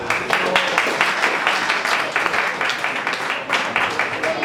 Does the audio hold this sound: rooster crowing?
no